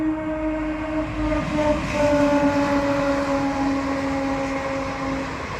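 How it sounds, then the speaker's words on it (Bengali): Lalgola Express pulling into a station, a loud sustained horn over the close rumble of the approaching train, with no talk. "এই যে আমাদের ট্রেন আসবে এখন"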